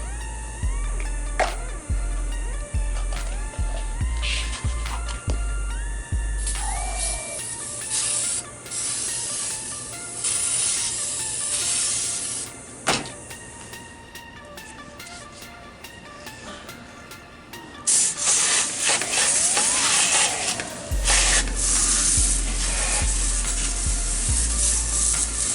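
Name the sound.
spraying cleaner on spilled engine oil of a Lexus LS400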